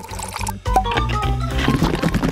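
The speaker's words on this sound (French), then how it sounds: "Et maintenant, je verse de l'eau bouillante." Boiling water is poured to make coffee, a close, loud liquid stream running steadily with gurgling tones under a hum of background sound.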